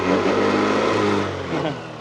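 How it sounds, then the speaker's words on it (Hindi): A TVS Jupiter scooter engine revving while standing still, a loud close buzzing drone that climbs and then eases off, with no talking over it. "अभी एक्सीलेटर मारता हूँ,"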